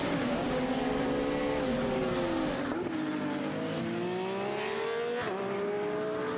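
Race cars from the FIA CEZ Endurance ESETCup at the Most circuit sweep through a chicane, with loud continuous engine drone, pitch falling and rising through downshifts and acceleration and a sharp gearchange near the end, heard up close with no talk.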